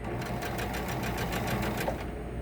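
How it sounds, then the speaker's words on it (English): Sewing machine stitching a seam with seam allowances, a fast steady mechanical whirring and ticking of the needle running continuously at close range. "Let's we'll go one more stitch."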